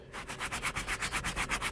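A stiff brush scrubs car seat upholstery in quick, even back-and-forth strokes, about eight steady swishes, close up with no talking.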